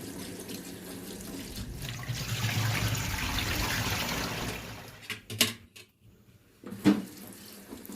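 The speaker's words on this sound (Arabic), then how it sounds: "هغسلها بقى ايه كويس جدا مرة واتنين وتلاتة بتعيدي عليها، عشان الحاجات دي بتبقى عايزة غسيل يعني تحت مية جارية كده كويس جدا" Tap water runs steadily into a sink as beef lung and tripe are washed, a close, continuous rush that stops and gives way to a few handling clatters.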